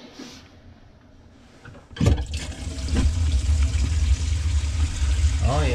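About 1.5 gallons of water rushes down a bathroom vanity sink drain, starting suddenly partway through as a loud steady gurgling flow that continues to the end, with no talking.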